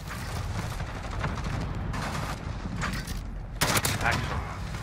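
Gunfire rattles in a Modern Warfare multiplayer match, rapid bursts and shots under a steady din of battle, with a louder burst near the end and voices talking over it.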